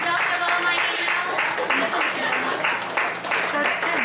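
A crowd at a youth soccer team's pizza party claps steadily for the parents, a sustained patter of many hands with voices mixed in beneath.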